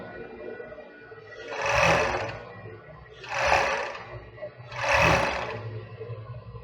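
A sewing machine stitches a children's swimsuit in three separate bursts of running, each a couple of seconds long with quieter pauses between, close up and with no speech.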